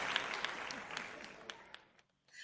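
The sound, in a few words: golf clap applause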